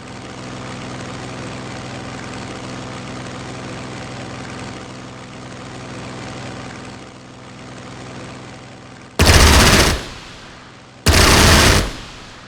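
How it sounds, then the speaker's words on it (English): Aircraft engine drone from a fighter plane in the strategy game Strategic Mind: The Pacific, steady for several seconds, then two loud, dense bursts of gunfire as it attacks an enemy fighter. "Attack the enemy fighter."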